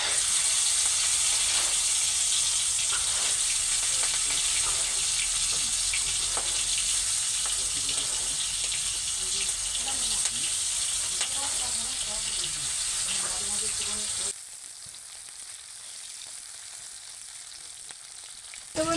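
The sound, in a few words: fish frying in hot oil on high flame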